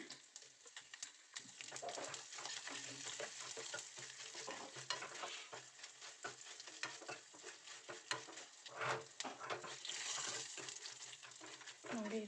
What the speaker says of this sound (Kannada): ಇವಾಗ ಇದನ್ನು ಫ್ರೈ ಮಾಡ್ಕೊಳ್ಳೋಣ